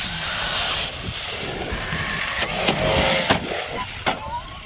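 ARRMA Mojave 4S RC desert truck driving outdoors, a steady electric motor whine with wind buffeting, close and fairly loud, with a few bumps and knocks as it runs.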